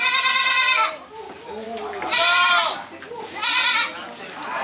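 Peranakan Etawa goats bleating on a breeding farm, three loud, wavering bleats close by, each about a second long with short gaps between.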